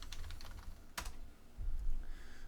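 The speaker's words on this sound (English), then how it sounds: "If we go to HEB and we type in creatine" Keys tapped on a computer keyboard while a search query is typed into a grocery store website, a quiet, brief run of clicks with one sharper stroke, heard close and alone.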